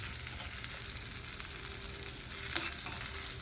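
Cow's brain frying in a pan until crispy and golden brown, heard as a quiet, even, continuous sizzle with no voices.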